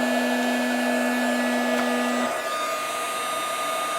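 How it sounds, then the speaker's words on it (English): A heat gun blows hot air steadily from underneath a craft piece, warming sticky chunks. It makes a loud, even whooshing hum with a constant motor whine, close up and with no voices. "I'm still going to keep my heat gun underneath"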